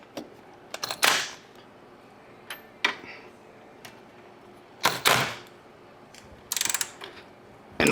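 Ratchet clicks while bolts are tightened on a 1960s-era VW engine during a pushrod tube fitting, coming in short bursts of close, sharp ratcheting separated by pauses.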